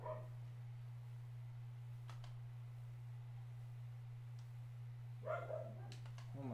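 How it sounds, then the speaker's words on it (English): Dog barks in a room, a few faint short bursts at the start and a brief cluster near the end, barely above a steady electrical hum. "Oh my god, my dog's freaking annoying."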